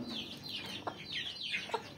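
Several soft clucks and chirps from free-range village chickens and chicks over an outdoor background, with a couple of sharper clucks standing out briefly.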